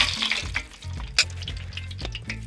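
Whole spices sizzle and crackle in 750 ml of hot oil in a large pot for a village-style Chettinad chicken biryani made with 3 kg of rice. A loud, continuous frying hiss carries sharp pops and stirring clinks, with no talk.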